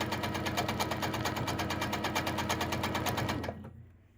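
A sewing machine stitches an echo flower quilting pattern with a rapid, even needle chatter, close and steady, before it stops abruptly near the end and leaves quiet.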